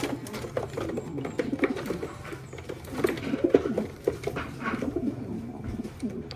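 Racing pigeons coo continuously in a loft, overlapping low throaty calls rolling in steady waves at close range, fairly loud with no voices over them.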